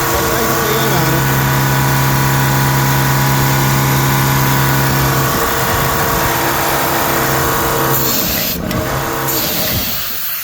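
A Dewalt air compressor runs loud and close with its cooling fan spinning, a dense, steady motor drone and whir. Someone talks over it.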